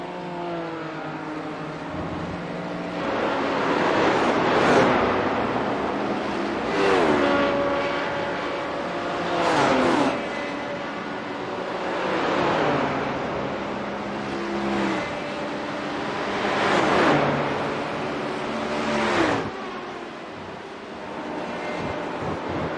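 Race cars at Watkins Glen sweep past one after another in repeated loud passes, engines rising and falling in pitch as each car approaches and recedes, with a steady track rumble between them.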